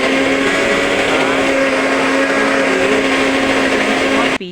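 A kitchen mixer grinder whirs at a high, steady pitch while grinding soaked, washed black lentils, loud and constant for several seconds before cutting off abruptly.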